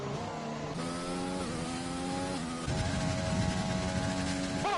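An F1 racing game car on the Austria circuit revs repeatedly with high buzzing engine tones rising and dropping through gear changes, fairly faint and alone.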